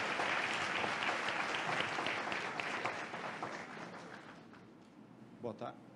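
Audience applause in a lecture hall at a seminar on ethics, a dense wash of clapping that gradually thins and fades, with brief talk near the end.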